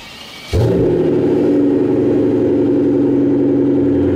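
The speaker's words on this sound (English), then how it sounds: "One of the best things about this car is the cold start." A car engine in a garage fires up from cold with a sharp catch, then settles into a loud, steady, rich idle that runs on without any talk.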